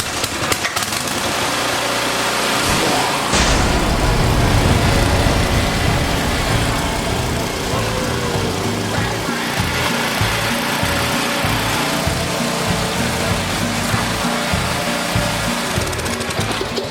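Zero-turn riding mower from a box store with its engine running, a loud, steady motor drone with a rougher, pulsing chug in the later part and no talking.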